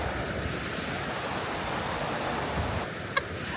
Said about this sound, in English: I'm sitting here enjoying the sounds of the river